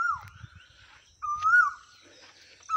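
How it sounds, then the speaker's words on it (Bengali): A cuckoo calls from jungle near Shalikha, Magura, Bangladesh, its clear rising whistles repeating a few times at moderate distance, with faint low rustling in between. "এই জঙ্গল থেকে ভেসে আসছে কোকিলের ডাক"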